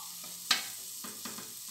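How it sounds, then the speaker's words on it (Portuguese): Chopped onion and calabresa sausage frying in a pan, giving a steady, close sizzling hiss broken by a sharp spatula clack and a few softer scraping stirs. "Vou deixar ela fritar bem aqui pra soltar aquele"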